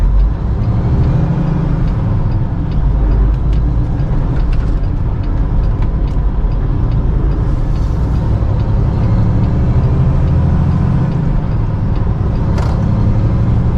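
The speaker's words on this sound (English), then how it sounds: "Wait for these cars to pass because I need to take up both lanes." Cars pass on a road by a construction zone, heard from a truck cab with a constant loud low engine rumble and road noise that masks individual passes, with no talking.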